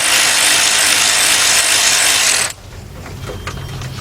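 A power tool buzzes loudly and steadily for about two and a half seconds while removing a 10mm bolt from a 2007-2017 Lexus LS460 steering rack, then stops, leaving faint handling noises.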